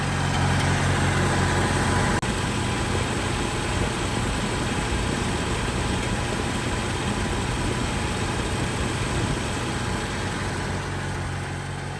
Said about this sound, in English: I'm going to try the Farmall Cub at a high idle.